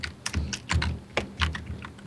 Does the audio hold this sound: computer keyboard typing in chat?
yes